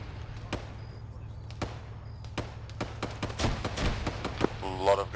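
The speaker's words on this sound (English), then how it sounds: "A lot of grenades, be careful, must be something." Grenades bursting in the jungle in Arma 3, a run of sharp cracking blasts at irregular intervals, some near and some farther off, over a low steady rumble, with voices heard speaking partway through.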